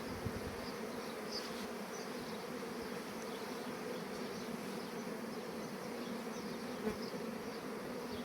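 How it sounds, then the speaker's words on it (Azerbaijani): A dense, steady buzz of honeybees at an open hive during a strong nectar flow, constant and fairly soft throughout with no voices. "O qədər nektar axını başlayıb ki, artıq açıq yumurtaları, sürfələri tullayırlar arılar."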